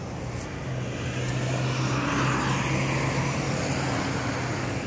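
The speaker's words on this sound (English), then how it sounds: "There's a lot of cars passing by." Road traffic rumbles past at close range, a broad steady roar of cars swelling slightly as vehicles pass, with no speech.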